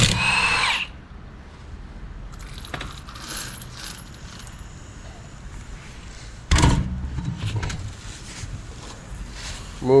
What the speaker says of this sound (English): Start with a 21mm impact socket. Take those lugs off.